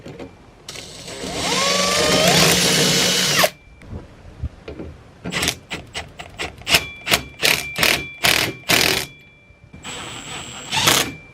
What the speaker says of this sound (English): I'm just gonna ream it a little bit.